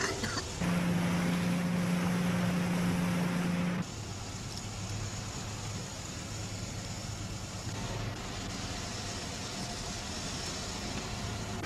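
Several chaser boats motor across open sea in a search pattern, giving a steady engine drone with wind and water wash, louder at first and then a lower, continuous rumble.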